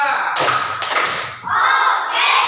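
A group of children claps in quick bursts, a few sharp claps with brief pauses, close and loud.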